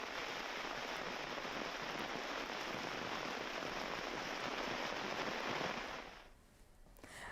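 Heavy monsoon rain pours down in Maharashtra during flooding, a dense, even hiss that holds steady for several seconds before easing abruptly near the end.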